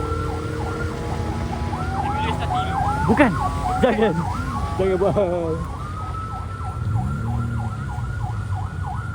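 Several electronic sirens fitted on a car at a night car meet wail and yelp in overlapping up-and-down sweeps, loud and close, with a steady wail continuing at the end and brief voices in between.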